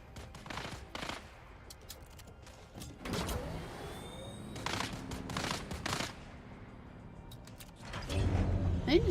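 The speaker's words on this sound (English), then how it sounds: "Are they just shooting at a player?" Gunfire in the video game Dune Awakening, with bursts of rapid shots scattered through the clip amid game noise and mechanical sounds, while players talk over it.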